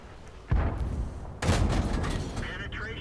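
Tank cannon fire in World of Tanks from an AMX 12t French light tank: two loud, heavy blasts about a second apart, the second fuller and followed by a rumbling tail, over a low battle ambience.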